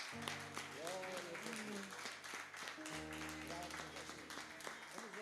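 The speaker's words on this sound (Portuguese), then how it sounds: "uma linda salva de palmas a Jesus" A church congregation gives applause to Jesus during worship, a steady wash of clapping underneath sustained music, moderately loud, with voices present.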